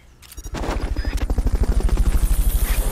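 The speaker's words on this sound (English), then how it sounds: "Bolton recovery subject confirmed onboard helicopter." A helicopter in the video game Metal Gear Solid Peace Walker, its rotor chopping in a loud, rapid, pulsing rhythm that swells up close after a short quiet start.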